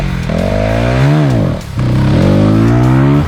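A Voge 125R naked motorcycle with a 15-horsepower 125 cc engine revs hard and loud up close, pitch climbing and falling in one sweep, dropping briefly, then climbing again in a second rising run.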